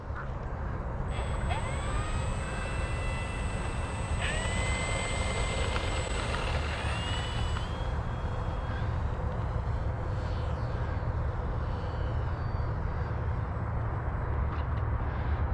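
Flightline Spitfire MK.IXc 1600mm electric model plane on its maiden flight, a steady whirring motor and propeller drone holding throughout with pitch sweeps as it climbs and banks, heard from the ground amid outdoor wind noise.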